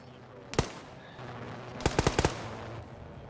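Gunfire in the ArmA 3 military shooter game during infantry play: one sharp shot, then a quick burst of four or five rounds at moderate distance over low background rumble.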